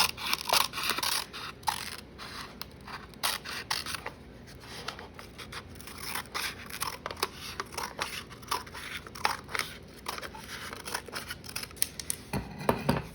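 Scissors trimming candle packaging, a quick run of crisp snips and rustles at close range with brief pauses between the cuts.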